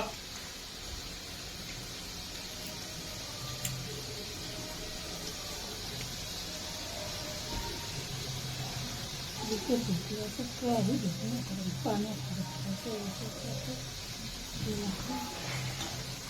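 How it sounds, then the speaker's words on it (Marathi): Spinach puris deep-frying in hot oil, a steady broadband hiss with bubbling crackle that grows busier and louder partway through, continuous and close. "मस्त पैकी पुरी तळायली बाबा फुगायला लागली"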